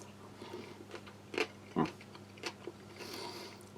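Someone close by chews pickled radish with rice from a Chinese Type 13 army ration, producing a few irregular, crisp crunches and softer wet chewing sounds in a quiet room.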